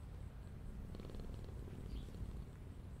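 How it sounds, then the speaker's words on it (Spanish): A cat purrs while being petted in the video game FNAF Into the Pit, a soft, steady, low rumbling purr that continues evenly throughout, fairly quiet and heard alone without talk. "vamos a acariciar al gato"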